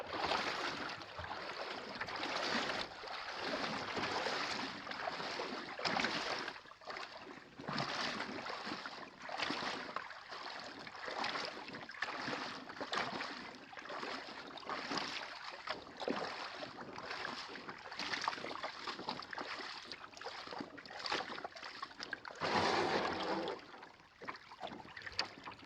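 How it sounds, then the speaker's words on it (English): Muddy river rapids rush and churn steadily around a solo canoe on a wilderness trip, with gusting wind noise and occasional splashes close to the microphone. "Oh, it's pretty good rapids here."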